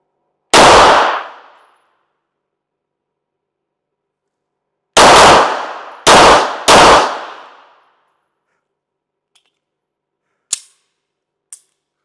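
A shotgun fires duplet cartridges outdoors. There is one loud, sharp blast, then three more in quick succession, each with a short decaying tail, followed by a couple of faint clicks.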